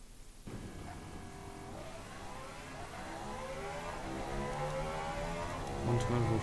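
A V12 supercar engine in the video game Automation revs steadily, its rising harmonic whine climbing in pitch over several seconds, loud and continuous with no talk.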